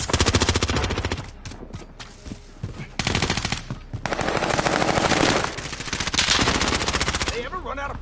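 Sustained machine gun fire in Call of Duty, loud and close, in rapid continuous bursts broken by brief pauses, with game voice callouts in the background.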